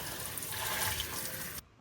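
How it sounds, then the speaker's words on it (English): Strawberries rinsed under a running kitchen tap, a continuous close hiss of flowing water that cuts off abruptly near the end. "I'm gonna rinse them off."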